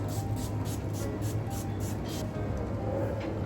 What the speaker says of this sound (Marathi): त्याच्या आधी मी हे रोज वॉटर स्प्रे करणार आहे